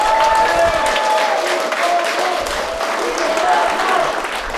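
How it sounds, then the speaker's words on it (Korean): An indoor crowd at a campaign office opening in Yeongcheon applauding warmly, loud continuous clapping that fills the room, with a few voices mixed into the noise. "여기 계신 모든 분들 이정훈을 위해서 한번 먼저 박수 좀 보내주십시오"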